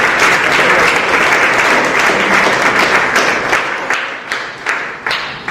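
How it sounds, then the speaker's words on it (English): Students at a robot camp receive a loud, dense round of applause from the audience, steady at first and then thinning into more distinct individual claps toward the end. "you should give the students a round of applause"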